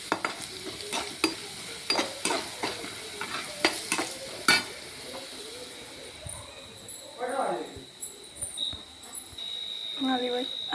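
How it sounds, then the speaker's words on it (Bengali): Potatoes for aloo bhaji are stir-fried in a pan: a utensil scrapes and clatters in quick irregular strokes, then a steady sizzle of frying continues with short bursts of stirring, close by. "আলু ভাজি হয়ে যাচ্ছে।"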